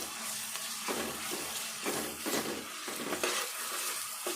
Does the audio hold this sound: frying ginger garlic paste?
yes